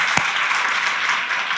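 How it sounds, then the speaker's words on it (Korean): A church congregation at a Sunday worship service claps in blessing for a couple's 40th wedding anniversary, producing a dense, even wash of applause with one sharp thud early on and no voices over it. "축복의 박수 한번 치줄까요?"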